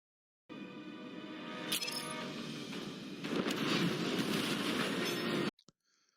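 A train rumbles past on the rails, a steady loud roar with a metallic rattle that swells toward the end, then cuts off abruptly.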